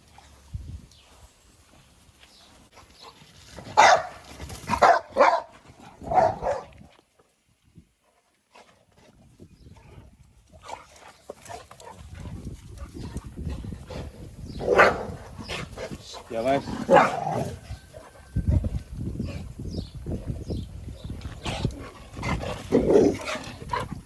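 A dog barks in loud bursts near the start, then barks again amid ongoing voices and movement noise; the barking is close and repeated.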